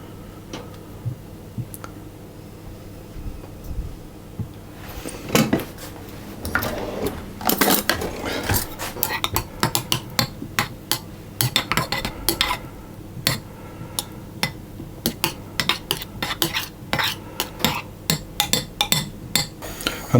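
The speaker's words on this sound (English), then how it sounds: "put our butter in and stir it round until it melts." A spoon stirs butter into lemon curd in a pan until it melts, giving a long run of irregular light clinks and scrapes against the pan that grow busier and more rhythmic after the first few seconds.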